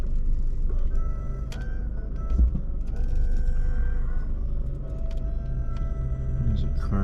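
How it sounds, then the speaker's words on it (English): A car drives past on a street in downtown Seguin, Texas, lined with old buildings, its low engine and tire rumble rolling steadily through the whole stretch, close and fairly loud. "There's a car going behind me."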